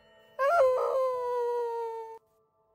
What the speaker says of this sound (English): howled into the night